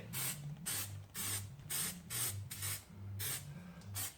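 Primer paint sprayed onto a rusty, repaired Jaguar XK8 sill before a sapphire blue metallic finish, short hissing bursts repeated about eight times in an even rhythm over a low motor hum.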